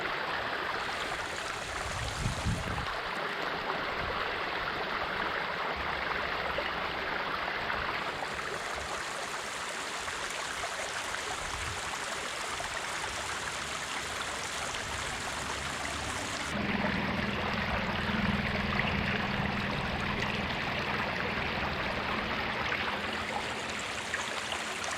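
Water from Climax Spring in Kentucky rushes and splashes continuously in a steady broadband wash, close and fairly loud throughout, with no voices.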